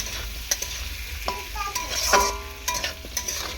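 Potatoes stir-fried in a pan, a close sizzle under repeated spatula scrapes and knocks against the metal, coming in short irregular strokes.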